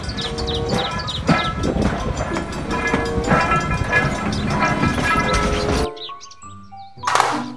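A toy Thomas train rumbles with continuous clattering, rolling mechanical noise, loud and close, then cuts to a brief electronic tune and a sharp hiss-like burst near the end.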